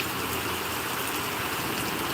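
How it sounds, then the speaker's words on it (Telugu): Very heavy monsoon-season downpour in Mulkanur, a dense steady hiss of rain pouring down without a break, with a faint low rumble underneath and no voices. "నాకు లైవ్లో అయితే అసలు వర్షాకాలంలో ఎప్పుడు పడనంత వాన పడుతుంది"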